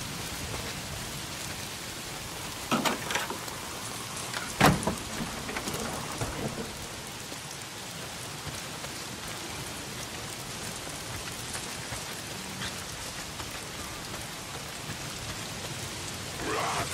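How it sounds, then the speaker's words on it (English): Steady video game rain hisses throughout, with a couple of brief louder splashes or rumbles early on, otherwise an even, continuous downpour. "It's the goddamn rain."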